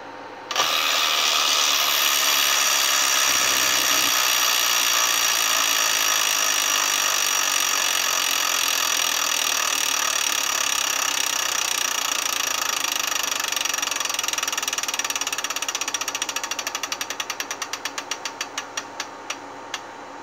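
A Wheel of Fortune Deluxe Edition electronic tabletop game wheel whirs in a fast, steady ratcheting buzz for most of the spin, then slows into separate clicks before stopping, with no talking.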